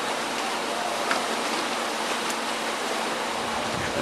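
Water pours out from underneath a structure into Scriber Creek at a walleye hatchery in Constantia, New York: a steady, close, broadband rushing splash that holds level throughout with no talk.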